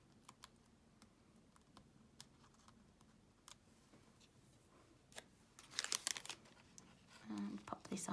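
Paper backing being peeled from sticky foam pieces while decorating a handmade treat bag, a close, quiet series of crinkling rustles that builds into louder tearing and crumpling near the end.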